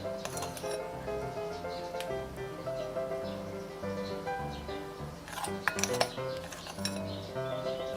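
Ice cubes drop into a glass for an iced keto coffee drink, making scattered bright clinks and ringing knocks up close, with a short cluster of louder clatters partway through.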